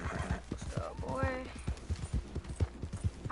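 Horse hooves clip-clop in an M-rated video game, a quick irregular trot of sharp thuds with a neigh partway through, close and fairly loud.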